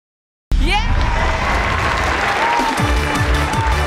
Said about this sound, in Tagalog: Yung mas masaya ang palakpakan na sigawan!